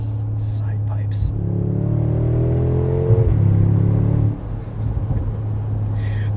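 2025 Mercedes-AMG G63 with a 577 hp biturbo V8 accelerating through its side exhaust pipes, a deep rumbling engine note rising in pitch from inside the cabin, with brief whispery talk at the start and end.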